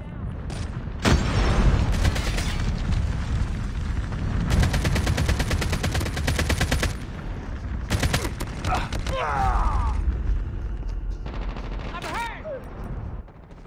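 Gunfire in the mobile shooter game Call of Duty: Mobile, with sustained automatic bursts and sharp single shots rattling loudly through most of the stretch, some booms and mechanical clicks between them, and brief speech-like game sounds near the end.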